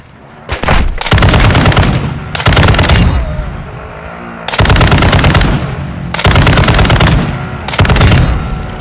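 RAAL machine gun from Warzone 2 DMZ firing in loud, sustained automatic bursts, about five long volleys separated by short pauses, close and dominant.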